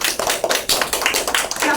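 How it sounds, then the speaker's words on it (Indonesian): A classroom of students claps together in quick, uneven bursts, close and lively, with a few voices mixed in. "Tepuk tangan untuk Dela."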